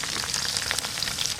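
Potatoes fry in hot oil with a spice paste for a banana flower curry, giving a loud, dense sizzle and crackle that runs close and continuous.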